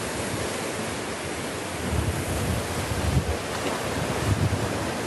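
Wind blows across the seaside while fishing for sea bream, a broad steady roar with gusting swells and surf-like surges, loud and continuous, no voices.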